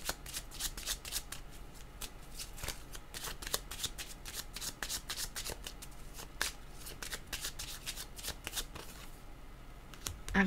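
A deck of cards being shuffled repeatedly for a tarot-style card reading, with crisp riffling bursts in a steady rhythm, close and fairly loud, no voices.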